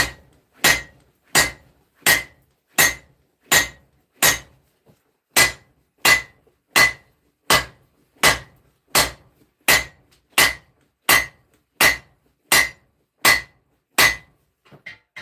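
A hammer strikes hot steel to bevel a forged sword blade, about twenty sharp metallic blows in a steady, evenly spaced rhythm, close and ringing, with no talk.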